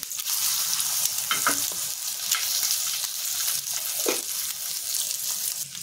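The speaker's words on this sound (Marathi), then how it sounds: "दोन्ही बाजूने आपल्याला मसाले टाकून फ्राय करून घ्यायचे।" A masala omelette frying on a tava gives off a continuous close sizzle with occasional louder crackles and spatula scrapes.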